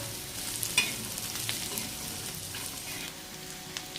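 Chillies and onion fried in oil are stirred together in a pan, giving a close, continuous sizzle with scraping strokes and one bright clink of metal near the start.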